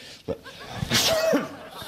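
A single person's sneeze bursts out at close range in an indoor office meeting, with brief murmurs and breathy noises around it and no clear speech.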